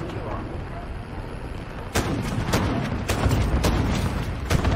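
Cluster strike explosions in a first-person shooter match, a run of sharp booms starting partway through and repeating irregularly over dense game noise, with faint talk underneath.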